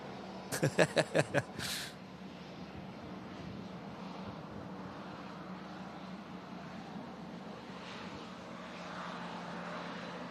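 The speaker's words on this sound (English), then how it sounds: "Brand new Airbus A321neo heading off to Paphos in Cyprus." An Airbus A321neo takes off at Manchester Airport in strong winds. A few sharp knocks come first, then a distant engine roar holds steady and broad.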